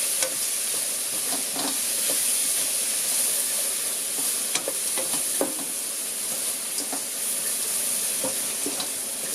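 Granola being stirred and tossed in a frying pan, with a steady sizzling hiss and repeated scraping clicks of the utensil against the pan, close and continuous.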